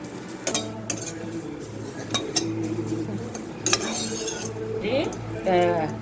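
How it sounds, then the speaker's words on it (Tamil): Dry moringa leaves being roasted, stirred and scraped around a pan, with repeated metal clinks of a utensil against the pan and a faint sizzle underneath. "முருங்கைக்கீரையை இப்படி நல்லா வறுத்துக்கணும்"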